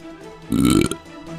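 A cartoon devil dog lets out a single loud, throaty burp lasting under half a second, standing alone against a quiet background.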